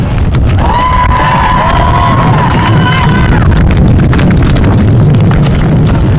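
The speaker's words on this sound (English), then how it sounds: "Please give a big round of applause for Isla" A crowd at an outdoor rally applauds and cheers as an organiser named Isla is welcomed to speak, sustained loud clapping with shouts and whistles over wind buffeting the microphone.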